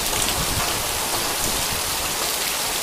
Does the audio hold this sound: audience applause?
no